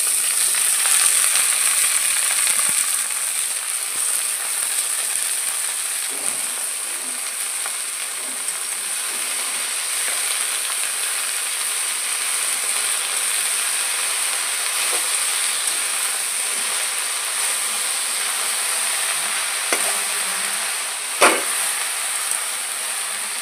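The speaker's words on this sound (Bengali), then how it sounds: "ওইদিকে তো শাক ভাজা হচ্ছে" Red amaranth greens fry in a pan with onion, garlic and green chillies, giving a continuous steady sizzle and hiss, close and fairly loud, with occasional small clicks and stirring sounds and no talking.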